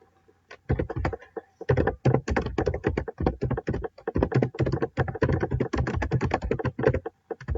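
Rapid, uneven keystrokes on a computer keyboard while entering code for a book-return form, close and clear, with short pauses between bursts of typing.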